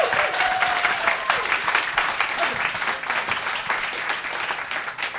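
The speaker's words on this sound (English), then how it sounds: "Let's have a little round of applause for Dr." A live audience at an Edinburgh evening show applauds steadily, a dense wash of many hands clapping that holds at an even level throughout, with faint murmurs mixed in.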